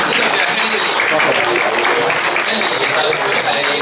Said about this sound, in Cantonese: 呢個真係要俾啲掌聲佢。